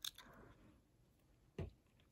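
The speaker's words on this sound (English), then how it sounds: "Sorry, I'm chewing gum." Chewing gum close to the mic during a crochet loom tutorial, a few soft wet chews and one sharper squishy bite, quiet and with no talking.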